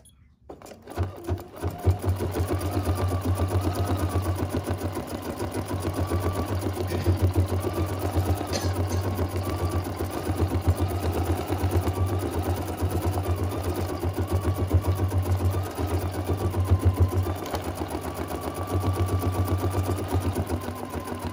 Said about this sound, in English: let's go to the machine and stitch our placement stitch